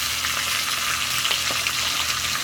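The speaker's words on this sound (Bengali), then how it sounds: "এই চিংড়ি মাছ ভাজা দিয়েছি এর মধ্যে" Prawns sizzle and crackle in a hot pan, a continuous loud frying hiss with a few sharper pops, no talking.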